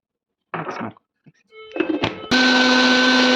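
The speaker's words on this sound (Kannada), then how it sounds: "ವಾಟರ್ ಮೆಲನು, ಮಸ್ಕ್ ಮೆಲನ್ ಹಾಕಿ ಲೈಟಾಗಿ ಮತ್ತೆ ತಿರುಗಿಸ್ಕೋಬೇಕು" A mixer grinder blends watermelon and muskmelon for fruit juice. After a few clunks as the jar is handled, the motor starts with a steady, loud high-pitched whir that runs to the end.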